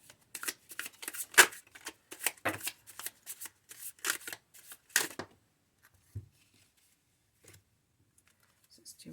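Oracle cards from the Heaven and Earth deck are shuffled by hand in quick riffling bursts, close and crisp, trailing off into a few sparse taps and rustles.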